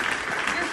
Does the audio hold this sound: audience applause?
yes